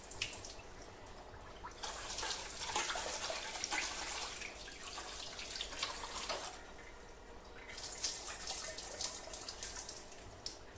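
Rice for payesh is washed by hand in water, with soft sloshing and splashing in two long bursts. It is quiet and close, with no voices.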